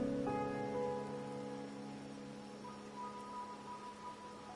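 Steady rain falls in the Raguna setting of the game Wuthering Waves, a soft, even hiss that runs the whole time under faint tonal background music, with no voices.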